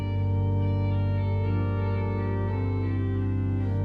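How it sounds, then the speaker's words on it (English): A pipe organ's orchestral oboe stop on the fourth manual plays a sustained, steady reedy tone with slowly shifting held notes, heard at the console with no talking. "So up on the 4th keyboard, we have an orchestral oboe."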